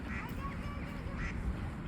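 Ducks at a family park in Tekirdağ, Turkey, give a couple of quacks against a steady windy outdoor background, with faint voices nearby.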